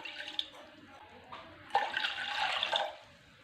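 Water from a tumbler poured into a pan of crushed home-remedy ingredients for a cold and cough, a close splashing pour in two bursts, the second longer and louder, with no talk.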